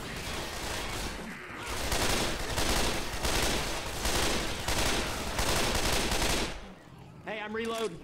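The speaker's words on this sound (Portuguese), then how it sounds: "É um modo de rajada, né? Dá três tirinhos." Rapid three-round burst rifle fire in Left 4 Dead 2, rattling continuously for several seconds with brief gaps, then a short metallic reload-like sound at the end.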